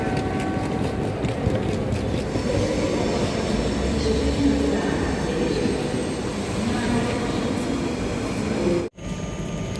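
Electric locomotive-hauled train running in the Netherlands, a steady broadband rumble of wheels and carriage noise with faint squeals, close and continuous, ending in a brief sharp dropout near the end.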